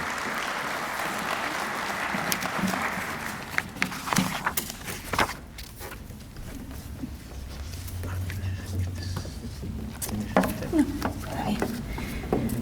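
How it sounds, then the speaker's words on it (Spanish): An audience at a Peruvian biodiversity-offsets meeting gives a presenter a round of clapping, moderately loud at first and then thinning into scattered claps and footsteps, with voices talking over it. "La recibimos con fuertes aplausos"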